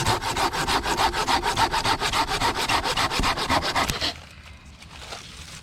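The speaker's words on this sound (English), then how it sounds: "we are using our new handsaw to cut up some bigger pieces of" A new handsaw cutting bigger pieces of firewood at a campsite, a close, rhythmic rasping of fast even strokes that stops abruptly partway through, leaving quiet outdoor background.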